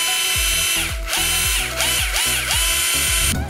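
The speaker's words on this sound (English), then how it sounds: "Let's see how fast the drill gets the screw in." A power drill with a driver bit runs in repeated short bursts, whirring up and down with ratcheting clicks as it drives a screw, close and loud with no talk.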